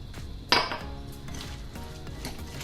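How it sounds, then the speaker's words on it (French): Mushroom and spinach stuffing with garlic, shallot, crushed nuts and olive oil being mixed in a bowl, giving a sharp utensil clink against the bowl followed by softer scraping and tapping, close and fairly quiet. "Je mélange tout ça."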